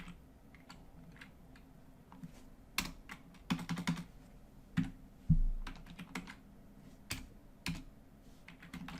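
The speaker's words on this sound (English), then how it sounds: "Man, I cannot type today." Close computer keyboard typing in uneven bursts of clicks, some keystrokes louder than others, heard alone without speech in a quiet room.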